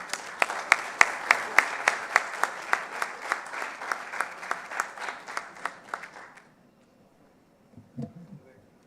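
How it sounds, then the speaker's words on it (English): A conference hall audience claps loudly in a rhythmic, unified beat of sharp repeated claps that gradually fade to near silence, followed by a brief voice. "Applause should be very loud."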